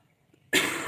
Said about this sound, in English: Still have the cough. It's still lingering.